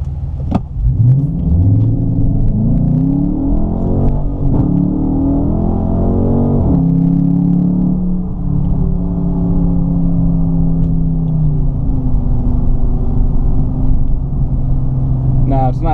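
A 2017 Dodge Charger Daytona with the 5.7 engine and adaptive exhaust in sport mode revs hard, loud rising sweeps climbing through gears, a brief drop, then another strong pull and settling rumble, all close and dominant.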